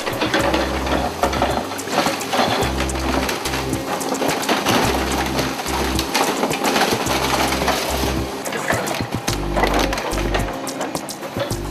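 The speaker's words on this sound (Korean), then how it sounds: "바위처럼 생긴 집게를 이용해 순식간에 차체를 뜯어내는데" A scrapyard grapple claw rips apart a car body, giving loud continuous metallic crunching, scraping and creaking with rhythmic low mechanical thumps from the heavy machine, close and sustained throughout.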